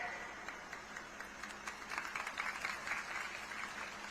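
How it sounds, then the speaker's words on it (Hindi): An audience at a Rahul Gandhi political speech in Uttar Pradesh claps in a steady, fairly distant wash of applause that swells slightly midway and carries on to the end. "आपने ताली बजाई, मतलब आप गहराई समझ गए बात की।"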